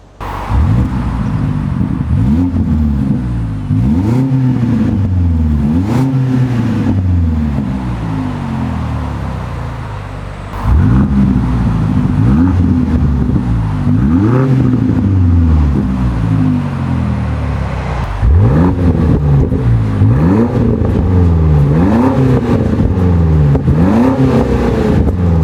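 A Range Rover's 4.4 litre V8 with an aftermarket exhaust is revved repeatedly, each loud, close blip rising and falling in a rhythmic series of throaty bursts.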